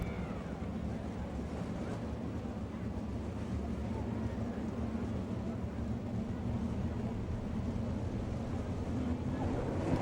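Sprint race cars at a dirt track in Florence, Kentucky, an All Star Circuit of Champions event, pick up throttle before the green flag, making a steady, distant engine roar that stays constant throughout.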